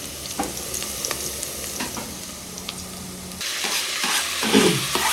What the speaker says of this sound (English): the color of the onions is turning, which means they are almost well cooked